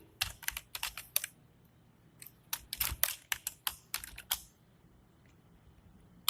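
Someone types code on a computer keyboard: close, crisp key clicks in quick clusters with brief pauses, fairly quiet, and no speech.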